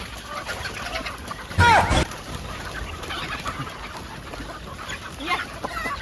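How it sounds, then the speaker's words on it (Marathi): Farm chickens, just let out of their coop, cluck and call close by in short bursts, with one louder squawk standing out over a low outdoor background. "आपण कोंबड्या जे आहेत तर ते उशिरा सोडतो तर आता आपण सोडूयात बाहेर"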